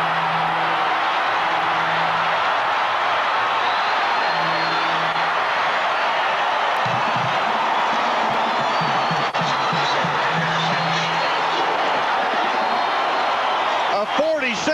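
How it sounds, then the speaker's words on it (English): A loud, sustained stadium crowd roars after a Baylor touchdown at a 1984 Texas–Baylor college football game, a dense wall of cheering that holds for the whole stretch, with a band or horn blasts and a commentator's voice beneath. "Brings the crowd alive."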